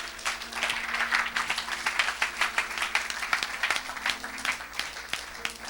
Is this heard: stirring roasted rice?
no